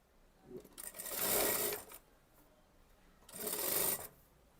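A sewing machine stitches the yoke of an Anarkali kurti in two short, loud bursts of rapid whirring, separated by a quiet pause and a few soft handling sounds.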